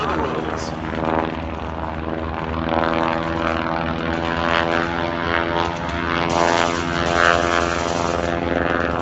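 A propeller aircraft drones loudly overhead at the Duxford Air Festival, its engine note holding steady and swelling slightly while a commentator talks over the PA.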